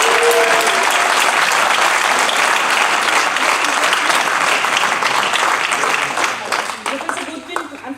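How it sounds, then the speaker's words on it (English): Applause from the audience at a 2021 graduation ceremony as the Faculty of the Year award is announced, loud and sustained clapping from a large crowd that tapers off toward the end. "Round of applause."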